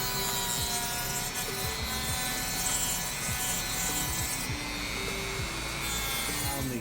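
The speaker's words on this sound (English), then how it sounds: "we're going to use a Dremel tool with a little sanding block on it" A Dremel rotary tool fitted with a small sanding block works the edges of genuine leather coasters, a steady high-pitched motor whine with rough scraping friction running continuously and close.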